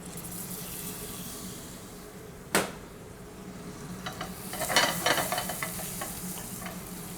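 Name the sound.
bacon sizzling in a frying pan with maple syrup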